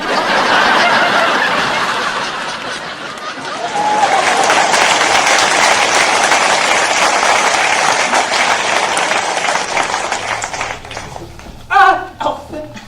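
A large crowd applauds and cheers continuously, a dense wash of clapping that swells and then tapers off, with a few louder close claps near the end.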